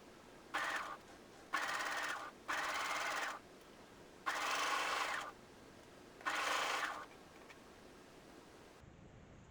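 A sewing machine stitching a Cathedral Windows patchwork quilt runs in five close bursts of steady whirring, each a second or so long and separated by short pauses.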